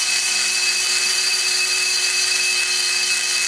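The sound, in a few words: sander removing casting mark from LS exhaust port metal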